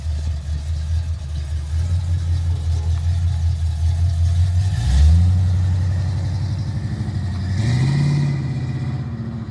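A restored black 1969 Buick Skylark drives off on a test drive, its engine holding a steady low throb before two revving pushes of acceleration, loud and close, with no talking.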